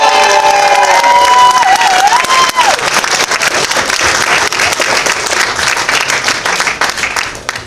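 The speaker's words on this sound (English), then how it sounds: "let's have a massive round of applause for Jill the Jabba" A comic-con crowd at a cosplay championship bursts into loud applause and cheering, with whistles and shouts rising early over dense clapping that carries on strongly, then thins slightly toward the end.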